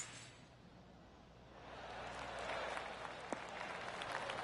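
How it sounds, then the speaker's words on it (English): Polite golf applause from a gallery around the course in PGA Tour 2K25, a soft, steady patter of many hands that swells slightly midway and carries on under faint ambience. "I can hear the golf claps around the course"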